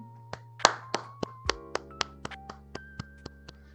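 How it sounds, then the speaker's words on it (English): A slow series of light, isolated claps, about a dozen crisp hits spaced evenly, sparse and polite, with a faint steady hum and tones underneath. "Golf claps all around, man."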